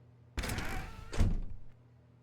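A door in The Stanley Parable swings open with a sudden thud, then a second heavier thunk about a second later as it closes or settles, each fairly loud and close, over a faint background hum.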